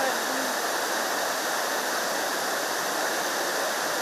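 Water overflowing the Chikli Hole dam reservoir in Kodagu after three days of heavy rain roars in a loud, unbroken rush like a waterfall, steady and close throughout.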